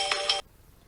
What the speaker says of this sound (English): Oh, and I have a phone call.